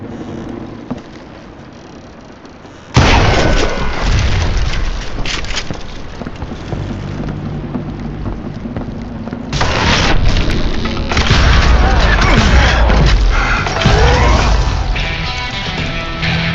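Dynamite goes off in the Call of Juarez western video game. A sudden loud blast at about three seconds leads into a long roaring rumble, and a second heavy surge of crashing debris noise follows later on.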